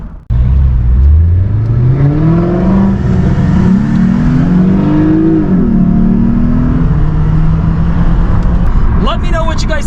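A 2011 Lexus IS250 with a new budget intake revving in fourth gear from around 3,000 RPM, a loud, close engine note climbing steadily in pitch and holding for several seconds before easing off.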